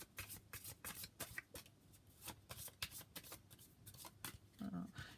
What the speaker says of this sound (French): Je les ai assez bien brassées.